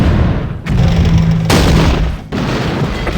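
Tank cannon fire in the Battle Academy 2 game booms in two or three heavy, sharp blasts over a dense rumbling battle background, loud and continuous.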